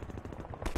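Burst of rapid gunfire in the video game Half-Life 2, with quick repeated shots close up and fairly loud, lasting under a second.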